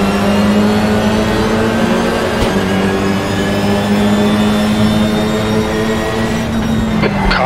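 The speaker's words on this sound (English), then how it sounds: "That engine doesn't sound right, mate." Simulated WTCR 2019 touring race car engine in Raceroom at Zolder, a loud continuous drone with steady harmonics holding near-constant revs throughout, alone with no talk.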